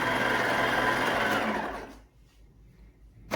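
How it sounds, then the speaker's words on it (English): An electric mixer kneads bread dough for dinner rolls with a steady, close whirring drone that winds down and stops partway through, leaving near quiet and a small clack. "It has been mixing, it's almost ready"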